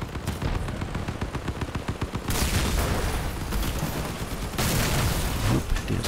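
Gunfire in the vehicle combat game Crossout: rapid automatic weapon fire with a steady machine-gun rhythm, then heavier, louder bursts and booming shots, continuous and close throughout.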